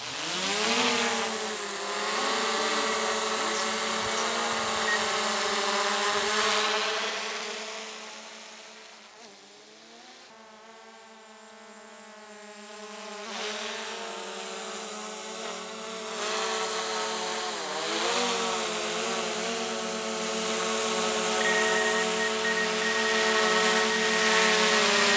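A hovering DJI Mavic drone gives off a sustained, close, buzzing propeller whine with layered tones whose pitch bends and wavers during a hand catch, fading briefly before growing loud again.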